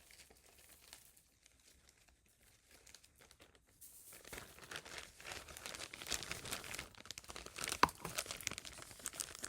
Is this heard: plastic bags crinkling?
yes